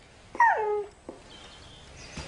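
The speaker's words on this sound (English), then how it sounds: "No, Pollyanna, we are not taking in a stray dog." A stray dog gives a single short whimpering yip, close and fairly clear, followed by a faint second whine and then quiet.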